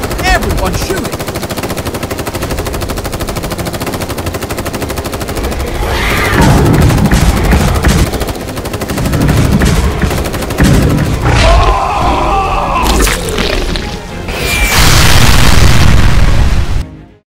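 Sustained gunfire with machine-gun bursts and booms aimed at a charging dinosaur in a Jurassic World toy action movie, loud and dense throughout, with shouting voices mixed in.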